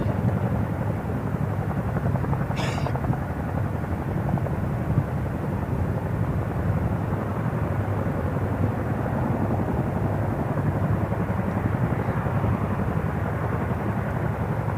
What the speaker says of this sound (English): Now the Chinook helicopters have completed their mission and are moving on to the next mission.